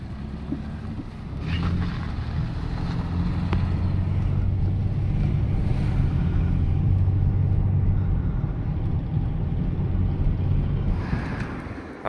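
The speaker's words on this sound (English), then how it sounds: "Dad's driving the Mustang." A 1965 Ford Mustang cruising on the road, its engine a low steady drone from inside the car, mixed with constant wind and road noise and no one speaking.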